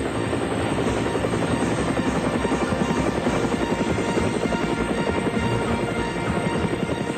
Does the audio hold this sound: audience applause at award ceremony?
no